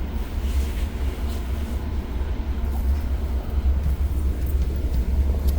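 An Alstom-built diesel train on Ottawa's O-Train Trillium Line rumbles steadily beneath a rider at night, giving a continuous low drone and rattle heard from inside the car.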